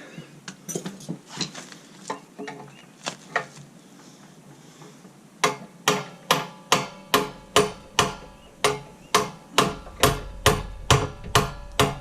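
Hammer blows strike a compressor under repair, a run of about fifteen sharp, evenly spaced metallic impacts in the second half, loud and close, after quieter clattering and rummaging.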